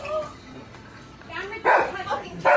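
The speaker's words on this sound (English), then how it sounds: "That's your dog, man." A pet dog gives a few sharp barks and yips amid a lively home scene, with two louder barks near the end over background voices.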